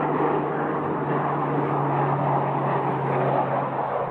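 The steady, loud drone of an LC-130 four-engine turboprop cargo plane, a continuous broad roar with a low hum, close and unbroken, no voices.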